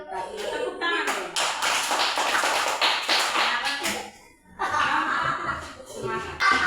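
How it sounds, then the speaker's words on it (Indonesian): A classroom of children claps hands during an Indonesian primary lesson: dense bursts of rapid clapping, pausing briefly midway before resuming, mixed with chuckles, laughter and children's voices. "Tepuk tangan dong."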